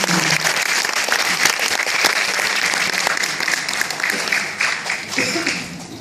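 An audience at a public event in Yongin, South Korea, claps loudly and steadily as a National Assembly member is welcomed to the podium, a dense wash of many hands that tapers slightly toward the end.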